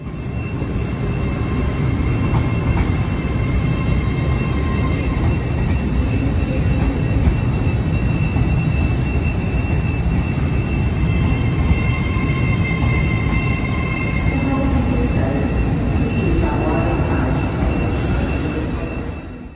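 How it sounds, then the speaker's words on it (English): A British electric multiple unit train with traction motors under its carriages, powered from overhead lines, passes as a steady, loud rumble and rush of rail noise with faint tonal whine, continuous throughout. "Electric multiple units do not have one locomotive. They've got multiple engines underneath the train."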